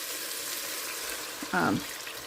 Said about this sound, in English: now this needs to simmer for like 30-45 minutes